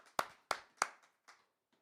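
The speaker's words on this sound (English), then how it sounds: "please give a round of applause, a virtual round of applause to the one and only" A handful of isolated hand claps welcome a music artist named Kimani at an online seminar, about five crisp, close claps that thin out and fade, with silence between them.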